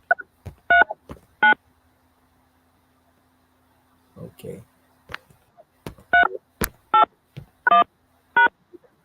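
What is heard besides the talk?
telephone keypad DTMF tones entering access code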